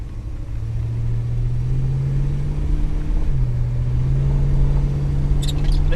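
V8 car engine fitted with a Holley carburetor, towing a trailer: a loud, continuous low rumble with a steady droning tone that dips briefly as the revs shift, then settles back and holds.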